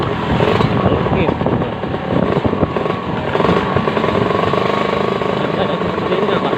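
A Kawasaki Ninja R motorcycle fitted with an SSR body runs its engine steadily and fairly loud, a continuous rumbling drone throughout, with people talking faintly over it.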